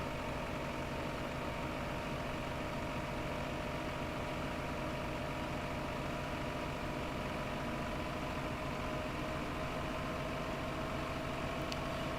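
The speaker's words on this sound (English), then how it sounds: "I think it's just the tractor." Steady tractor engine idling in a farming simulator game, a continuous droning hum with a constant mid-low tone, holding at an even level throughout with no talk over it.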